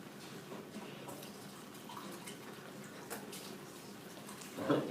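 Tap water runs steadily for rinsing in a chemistry classroom, a soft, continuous faint splash with a slightly louder gush right at the end.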